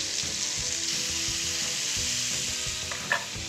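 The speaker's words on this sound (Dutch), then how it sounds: "En die bak ik nu rondom rond bruin." Pieces of wild boar meat browning for a ragout in a frying pan, sizzling steadily and loudly up close, with a few small pops and one brief clatter of stirring, and no talking.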